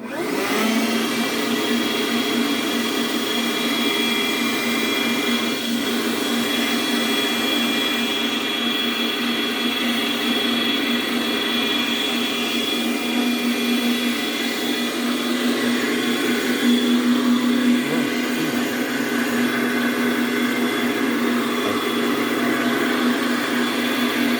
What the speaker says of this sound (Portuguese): pra você poder ligar a batedeira